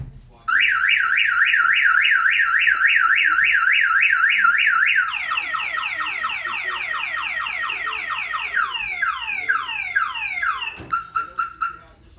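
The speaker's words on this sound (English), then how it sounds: "If the vehicle is hit or any of the doors are pried open, it will fire off the alarm system" A 2018 Dodge Charger's factory car alarm blares close by, first a rapid warbling siren, then a falling chirping pattern, then a few final short blasts before it stops.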